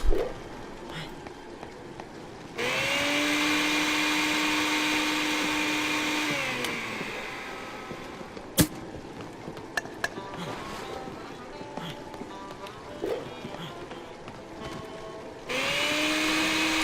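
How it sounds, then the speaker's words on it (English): A blender in the Dead Rising video game whirs loudly while mixing coffee creamer and orange juice, starting abruptly, running several seconds, stopping, then starting again, with quieter game sounds between. "put it inside the blender, and also put an orange juice inside the blender"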